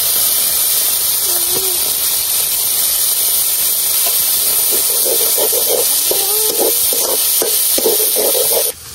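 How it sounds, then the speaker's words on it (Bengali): Dried fish fries in a spice paste cooked down until the oil separates, giving a loud, continuous sizzle with occasional stirring scrapes and faint clinks under the hiss. "ওখানে আমি শুটকি দিয়ে দেব।"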